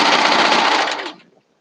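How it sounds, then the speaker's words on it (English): A serger sewing machine stitches lined-up fabric corners together in one short, loud, close burst of rapid whirring lasting about a second before it stops. "I'm lining all the 4 corners up to serge it together."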